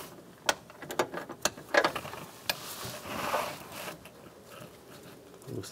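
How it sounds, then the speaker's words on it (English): A 13 mm socket ratchet loosens the center nut holding the A/C condenser hoses on a 2015-2020 GMC Yukon XL, making quiet, irregular bursts of sharp metallic clicks close by. "You're gonna use a 13 millimeter socket. Take that nut off right in the center."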